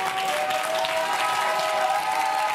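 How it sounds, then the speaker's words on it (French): A French television studio audience applauds for Billy, a dense, steady wash of clapping that fills the whole stretch at even loudness, with faint tonal music lines running underneath. "Applaudissements pour Billy."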